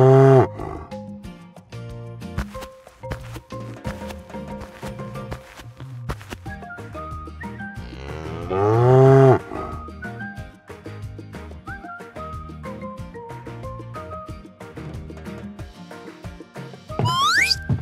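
Cartoon cows in an animated farm diorama moo loudly with long, drawn-out tonal calls, one swelling roar-like moo in the middle and another at the end, over bright background music, with no talking.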